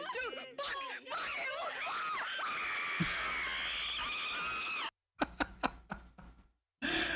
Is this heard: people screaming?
yes